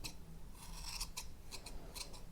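Scissors snipping around a yarn pom pom for an Easter chick craft, a quick series of close, crisp cuts with soft fibrous rustle between them.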